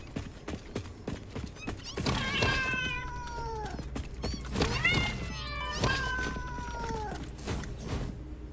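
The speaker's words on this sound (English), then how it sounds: "me fighting a bunch of cats" Cats in the video game Satisfactory let out several loud, drawn-out meows in quick succession, with footsteps and game noise around them.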